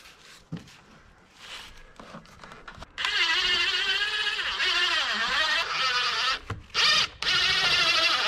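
A power drill drives screws to fix a window into the siding of a shipping container barn, whirring loudly in several close bursts after a few quiet clicks and knocks.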